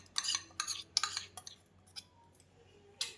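A spoon stirring besan batter with turmeric and ginger-chili paste for Maharashtrian khandvi (surlichi wadi), giving a series of sharp clinks and scrapes against the bowl in irregular bursts, close and clear, with pauses between strokes.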